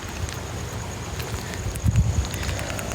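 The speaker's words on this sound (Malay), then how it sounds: "angin tiba-tiba kuat ni" Strong wind gusts suddenly at night on Pulau Upeh island in Melaka, with a low rumbling buffet of wind noise that builds briefly near the end over a steady background.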